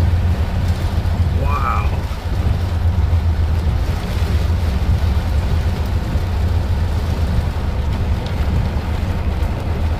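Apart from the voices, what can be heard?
manifest freight train passing in heavy rain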